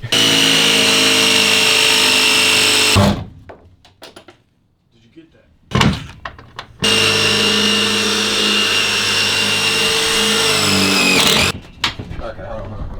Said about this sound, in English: Metal drill bit.